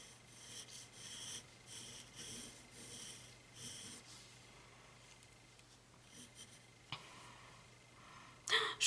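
A pencil drawing on paper, soft rhythmic scratching strokes in short bursts with pauses between, fairly close and quiet, ending in a sharper rustle.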